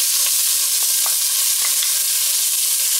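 Galangal, lemongrass and bay leaves fry in oil in a pan while being stirred, producing a steady, bright sizzle with faint scraping taps from the utensil, up close and alone.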